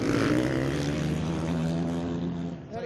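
Solo-class race motorcycles fill a starting grid and rev hard on their limiters, making a loud, steady, buzzing engine drone that holds for the whole stretch and eases slightly at the end.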